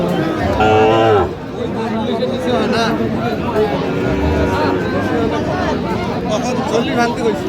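Sahiwal bulls and cattle lowing at a busy cattle market in Sylhet, with one loud close moo near the start and further moos amid continuous crowd chatter and bargaining voices.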